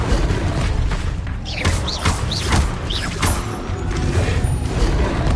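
An Incendio fire spell cast in Hogwarts Legacy, heard as whooshing bursts and swept magical tones over a dense, steady game soundscape, with no one talking.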